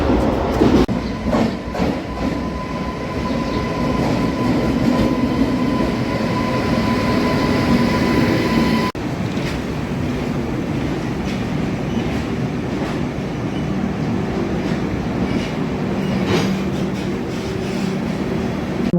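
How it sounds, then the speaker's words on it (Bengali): The Kanchanjangha Express rumbles steadily along the tracks into Kamakhya station, loud and close, with rhythmic clattering of wheels and a brief squeal as it rolls in. "আমাদের কাঞ্চনজঙ্ঘা এক্সপ্রেস এই কামাখ্যা স্টেশনে পৌঁছে দিল"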